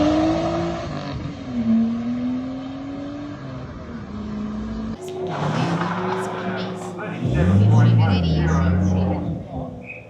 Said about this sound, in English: appreciate the sounds of that straight 6 Nissan Turbo